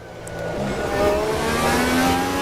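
A race car in the Automobilista 2 sim racing game roars through a corner without braking, its engine rising and holding at a loud mid-pitched drone, with tyre noise underneath.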